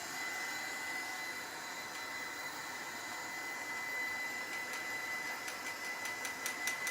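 A heat tool blows hot air to dry paint on an old camera during a makeover, a steady, fairly faint whirring hiss that holds unbroken for several seconds with no talk.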